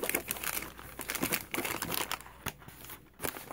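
An MRE flameless heater sleeve is folded by hand, giving close, continuous crinkling and crackling of thin plastic and foil in uneven bursts over a few seconds, with no talking.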